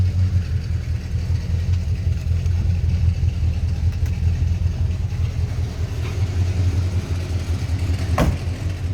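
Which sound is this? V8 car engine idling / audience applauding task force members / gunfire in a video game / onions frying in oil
V8 car engine idling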